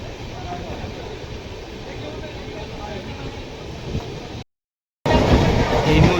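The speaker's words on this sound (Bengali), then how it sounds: "এখানে আস্তে আস্তে এই লোকাল ট্রেনটিকে ওভারটেক করলো, তার নিজের গতিতে ফিরে আসছে ট্রেনটি।" A local train pulls past a Howrah–Chambal Express on a Kolkata to Agra rail journey. A loud, steady rumble and rattle of rolling stock fills the clip, cuts out briefly, then resumes close and heavy.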